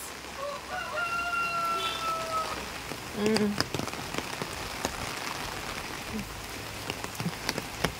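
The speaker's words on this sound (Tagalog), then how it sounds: "Yan na naman, bumuhos na naman ang ulan na malakas." Heavy rain pours down steadily during Typhoon Kristine in Lopez, Quezon, Philippines, a soft constant hiss with scattered drips and taps. A rooster crows in the background early on, and a few short animal calls break through.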